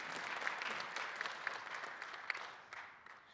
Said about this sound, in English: Yes, we clap for the good questions.